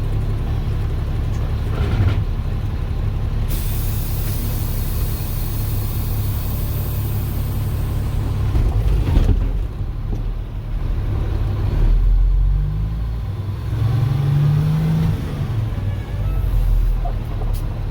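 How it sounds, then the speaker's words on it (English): Truck moving slowly in first gear at about five miles an hour during a service brake test, a steady low heavy-engine rumble that continues throughout, near and fairly loud, with brief rises and shifts in tone. "my truck in first gear, and move my truck at about 5 miles an hour"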